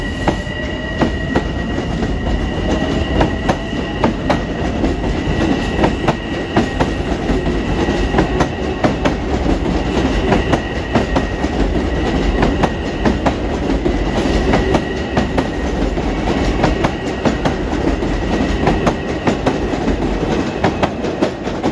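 A Long Island Rail Road Main Line train, an M3 electric multiple unit bound from Grand Central to Ronkonkoma, passes near Bethpage or Hicksville. Loud clickety-clack rolls by with steady wheel rumble and faint squeal throughout.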